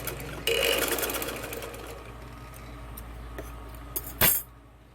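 A sewing machine runs a second line of stitching over the first on a men's shalwar, its steady burst starting loud then easing, with a brief clink and a short final whir near the end.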